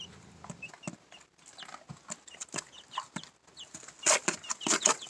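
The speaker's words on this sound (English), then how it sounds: "they've got such sweet little chirps." Many tiny high-pitched cheeps overlap in a busy, irregular chorus, close by, growing a little louder toward the end.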